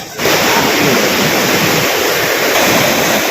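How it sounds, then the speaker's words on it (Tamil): Fast, swollen water of the Pamba river rushing past close by, a loud, steady broadband roar with no pauses from start to finish. "பாருங்கள் எவ்வளோ தண்ணி வந்து போயிட்டுருக்கு"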